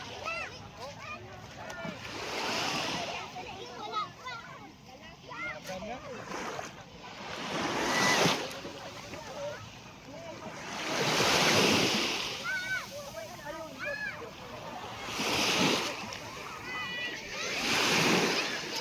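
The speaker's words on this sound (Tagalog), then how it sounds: "Lubog-lubog ang dagat." Rough sea waves surge and crash in repeated swells, rising loud every few seconds while people talk nearby.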